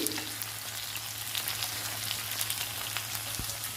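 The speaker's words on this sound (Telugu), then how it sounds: "వంకాయల్ని తిప్పుతూ ఫ్రై చేసుకోవాలండి" Whole eggplants fry in hot oil while being turned in a pan, a steady close sizzle and crackle under a faint low hum, with one brief clunk of turning.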